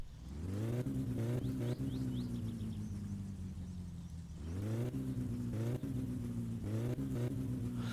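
A car engine in the driving simulator My Summer Car is revved in repeated pulls on the throttle from a steady idle. The rises and falls are close and clear, and no one speaks over them.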